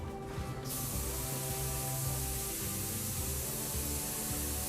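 Steady airbrush hiss of paint spraying onto an RC car body, a continuous airy spray held close and even from start to finish with a brief softer moment at the very beginning.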